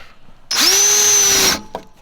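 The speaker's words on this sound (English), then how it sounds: "in the floor there, just using a slightly smaller drill bit" A power drill bores a pilot hole into the floor of a Ford Focus Mk3 RS using a slightly smaller bit, a single steady whine of about one second, close and loud, dying off abruptly.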